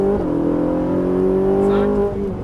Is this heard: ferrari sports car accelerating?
yes